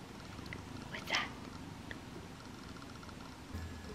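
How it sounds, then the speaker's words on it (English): A kitten purrs softly close by, a low steady rumble that sits beneath a faint background hum, with a brief brighter rustle partway through and a short low bump near the end. "Do you hear her purring?"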